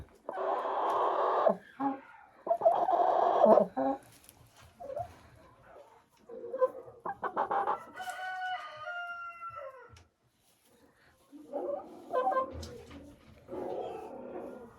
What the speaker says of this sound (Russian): Вот такие курочки. Бройлер.